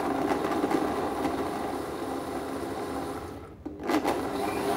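A kitchen blender whirs steadily, blending butternut squash soup with a knob of butter, then stops and restarts with a brief surge.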